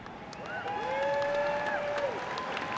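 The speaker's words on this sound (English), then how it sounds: "will you please join me in giving a round of applause to the class of 2012" Graduation ceremony audience applauding the class of 2012, a steady wash of clapping with some cheering, with a voice talking over it in a drawn-out, sweeping tone.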